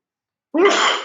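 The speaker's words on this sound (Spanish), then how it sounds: "que voy a estornudar" A single person sneezes once, close and fairly loud, after a moment of silence, with a breathy burst that trails off.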